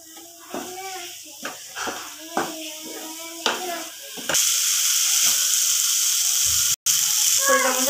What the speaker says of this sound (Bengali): নেড়ে নেবো ভালো করে।